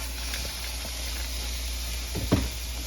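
Pork hits a hot pan of onion for Hello Fresh tacos and sizzles with a steady broad hiss, plus a brief louder crackle near the end, close and constant.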